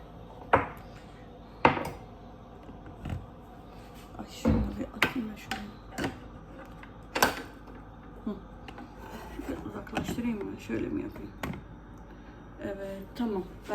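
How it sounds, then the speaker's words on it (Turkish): Dishes and cutlery clink and knock as they are loaded into a dishwasher one after another, with rubbing and scraping between the clatters and someone talking quietly at times. "Şöyle bir bulaşıkları bir makineye dizeceğim."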